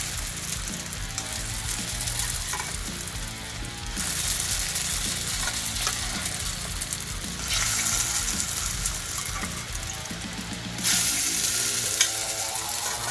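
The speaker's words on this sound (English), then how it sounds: "What my intent to do here is to fry these noodles and make them crispy." Noodles deep-frying in hot oil until crispy, a loud continuous sizzle and bubbling that surges in bursts as more oil is poured over the top, with no voices.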